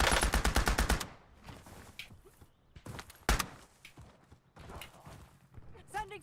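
Gunfire in the Warzone video game, a fast burst of automatic shots up front followed by scattered single shots and movement sounds, with a voice speaking alongside.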